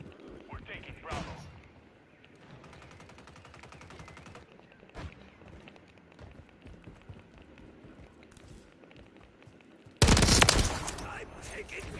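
Gunfire from the video game Modern Warfare 3, with bursts of shots and loud impacts scattered through the clip and a heavy blast toward the end, under in-game voices and chatter.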